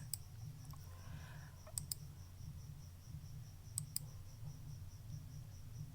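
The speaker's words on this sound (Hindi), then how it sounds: "अब मैं इसको क्लिक करूँगा" A computer mouse clicks a few times during spreadsheet work in Excel, with sharp, isolated clicks near the start, around two seconds and around four seconds over a steady low hum in a quiet room.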